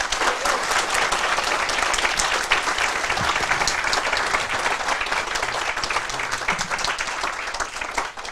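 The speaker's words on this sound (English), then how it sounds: "let's give him a big round of applause" An audience at an astronomy talk applauds steadily, dense clapping sustained for several seconds without a break.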